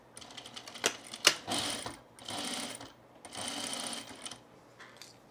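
Sewing machine stitching down the placket of a men's Arbor shirt, heavier thread on top, running in several bursts with short pauses between them, close and fairly loud, with a sharp mechanical click near the start.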